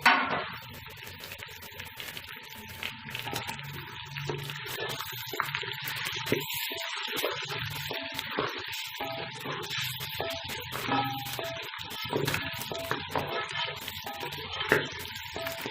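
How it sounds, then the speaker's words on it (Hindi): Beef trotters fry in ghee with garlic and spices, giving a steady, bubbling sizzle with wet, gushing swells and now and then a stir, continuous and close, with no voices. "ये जो पाए हैं इनको घी के अंदर फ्राई करना है।"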